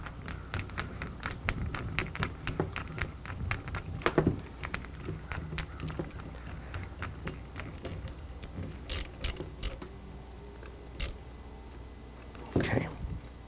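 A nut is threaded and tightened onto the metal frame of a Sanyo 20EZ arcade monitor from a Nintendo cabinet, heard as quiet, close, irregular clicks, ticks and scraping rubs, with a few sharper taps.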